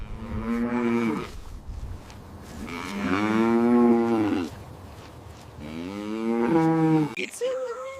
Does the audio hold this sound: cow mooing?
yes